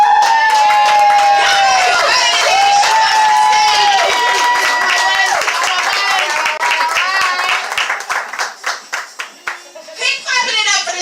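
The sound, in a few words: open mic audience cheering and clapping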